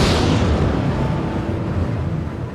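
A huge explosion representing the Big Bang roars as a sustained, dense, rumbling blast that fills the whole moment, loud and broad with no voices present.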